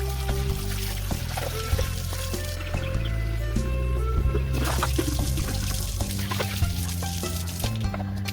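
Water pouring into gallon water containers for chickens, a steady gurgling, splashing flow with short breaks as the stream shifts, close and fairly loud, with no talking.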